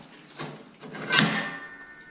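The door of a Laguna 18 BX bandsaw is pulled open, giving a soft thump and then a louder metallic clunk and rattle as the panel swings, close and brief.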